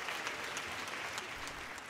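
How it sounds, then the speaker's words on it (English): An audience at a comedy show breaks into a steady round of applause, dense clapping that holds at an even level from start to finish with no voices standing out. "Round of applause"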